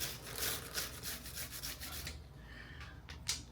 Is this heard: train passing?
no